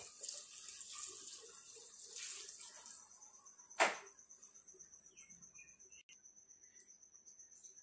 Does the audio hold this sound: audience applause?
no